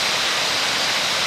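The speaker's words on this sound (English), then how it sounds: "there is a waterfall" A waterfall on a hiking trail near Santa Fe, Panama, gives a steady, loud, close rushing roar of falling water that stays constant throughout, with no talk.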